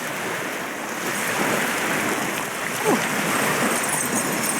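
Big ocean waves break in a steady, broad wash of surf with wind noise, loud and continuous throughout, while voices talk faintly over it.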